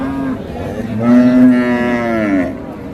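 A calf lows loudly at a cattle market selling young local-breed calves, one long drawn-out moo swelling in the middle and trailing off, close by with no talk over it.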